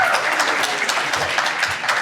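A loud round of applause from an audience at a university lecture event, as a chancellor is introduced, with dense, continuous clapping close by throughout.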